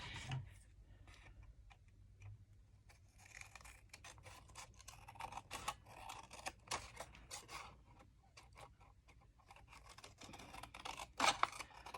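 Quiet, irregular snipping of scissors cutting through paper, close up, in short clustered bursts with a couple of sharper cuts near the end.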